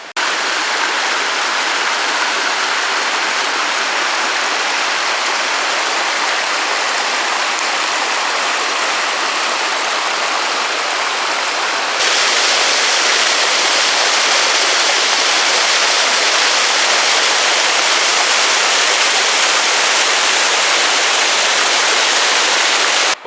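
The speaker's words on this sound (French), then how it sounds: "on a le ruisseau qui est juste là derrière" A stream rushes steadily beside a forest bushcraft campsite, a loud, continuous broadband wash of flowing water with no voices.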